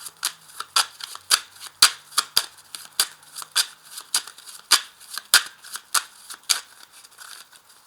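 Tarot cards being shuffled during a reading, a steady run of crisp riffling snaps and flutters repeating at a quick, fairly even rhythm, close and clear with no talk.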